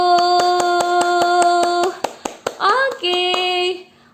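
Children at a Sunday school Easter service clap their hands in a quick, steady rhythm against sustained musical tones, then a few looser, scattered claps follow near the end.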